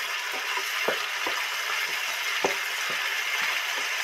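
Grated tomato and spices frying slowly in a pan for a Bengali duck egg curry, a steady soft sizzle with small scattered pops and light scraping ticks.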